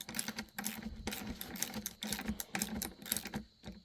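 Gearwrench flex-head ratchet from a 55-piece mechanics set, clicking in quick irregular runs while tightening, faint and close with no talk.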